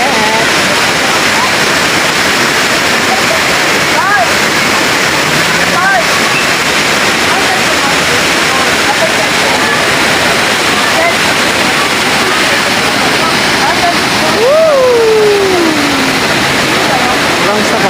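Daranak Falls in Tanay, Rizal roaring in a dense, constant rush of falling water close by, with voices chatting faintly under the steady roar.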